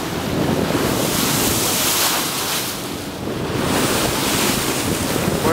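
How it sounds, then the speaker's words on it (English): Ocean waves surge at the mouth of Milford Sound, heard from a sailing boat. There is a steady loud wash of surf with strong wind buffeting the microphone, a slight lull midway, and no voices. "Whoa, big wave."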